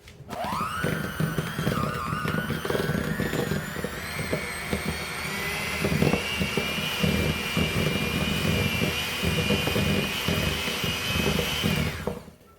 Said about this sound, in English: We are going to use our electric beater just to cream that butter up a little bit.